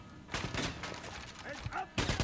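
Bursts of automatic gunfire from suppressing fire in the video game Wolfenstein, loud rapid rattling volleys with short gaps, mixed with other game sounds and brief tonal effects.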